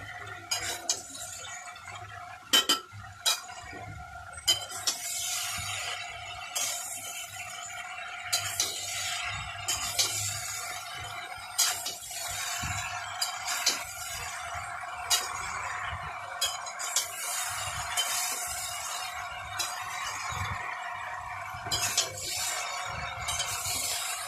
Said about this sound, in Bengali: এবার ভালো করে এটাকে নাড়াচাড়া করে নিতে হবে, মানে মশলার সঙ্গে এগুলো ভালো করে মিশিয়ে নিতে হবে